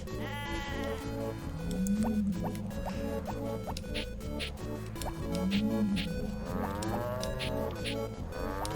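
Cows mooing in the farming game Harvest Moon Friends of Mineral Town, two long low moos repeated over a looping upbeat game tune with bleating sheep and bouncy chiptune melody throughout.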